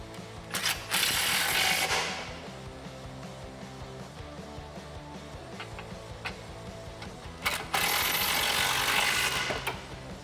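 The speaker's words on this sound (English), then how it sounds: "grab your 13 socket and tighten them down." A ratchet with a 13 socket tightens the bolts on a 2015-2020 Mustang EcoBoost Roush cat-back exhaust, with two bursts of quick clicking separated by a quieter stretch of faint workshop noise.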